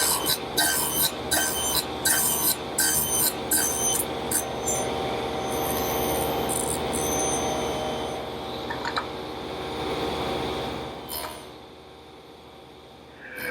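Table saw nibbling wood away to form tenons, with a run of rhythmic, close rasping cuts in the first seconds followed by a sustained blade whine that fades out.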